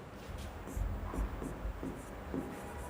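Pen scratching out the word "time" during a ratio lesson, a few quick faint strokes over a low room hum.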